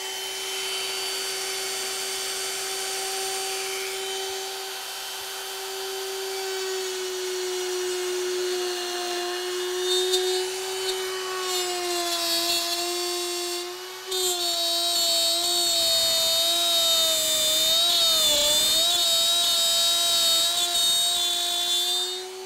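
A plunge router cutting all the way through a wooden board over a waste board, a loud, steady high-pitched motor whine that sags and shifts in pitch as the bit bites in, continuous for over twenty seconds with no talking.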